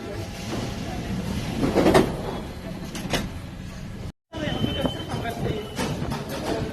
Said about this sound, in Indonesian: kita ada di dalam metro ya